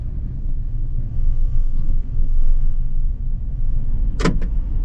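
Inside the cabin of a Nissan Gravite with a 3-cylinder engine and 5-speed manual, a steady engine drone and gear whine hum continuously, with a brief sharp mechanical click near the end.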